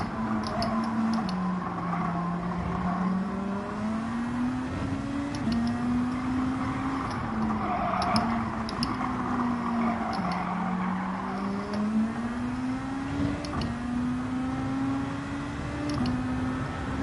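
A race car engine in Gran Turismo 7 holds a steady drone at part throttle, pitch wavering gently up and down as it rides over curbs, continuous and moderately loud, with faint ticking above.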